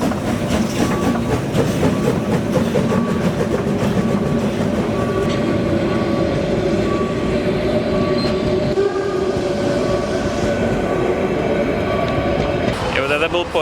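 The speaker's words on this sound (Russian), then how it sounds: "Это был поезд узкоколейной железной дороги" A narrow-gauge railway train on Brocken mountain rumbles loudly past at close range, with a steady rolling roar, rattling wagons and tonal squeals that fade near the end.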